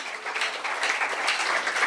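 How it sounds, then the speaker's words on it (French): A church congregation applauds newly baptised members during a service, a brief continuous wash of clapping with no voices over it. "encore une fois, nous allons les applaudir"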